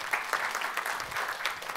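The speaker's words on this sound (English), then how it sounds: "quick round of applause to everyone." A conference audience claps steadily for nearly two seconds, a dense, even patter of many hands without voices.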